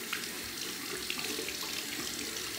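Tap water running steadily into a sink while a dog toothbrush is washed, a close, even hiss of flowing water with no talk.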